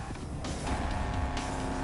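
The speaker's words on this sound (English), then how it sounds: "We got you a 67 Shelby GT500, also named Shelby Cobra." A 1967 Shelby GT500, a two-door Ford Mustang Fastback–based coupe in the video game The Crew Motorfest, roars close and loud with a steady engine drone that swells briefly as it drives past.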